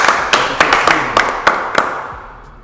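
Hand clapping from a few people on a podcast set, sharp uneven claps close to the mic over about two seconds, then fading out.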